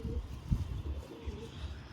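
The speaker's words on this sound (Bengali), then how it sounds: "খুব সুন্দর একটি পায়রা মাদি পায়রা" Low, soft cooing from a pair of domestic pigeons, a black-eyed hen among them, rolling on steadily through two seconds close by, with one brief louder thump midway.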